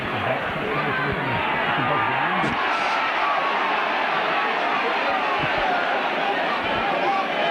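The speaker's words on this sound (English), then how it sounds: "Crowd really appreciating that by the Castleford fullback there." Rugby league crowd at a Yorkshire Cup semi-final replay between Castleford and Featherstone, a sustained broad murmur and applause from the stands after the fullback's catch, with a few brief sharp sounds.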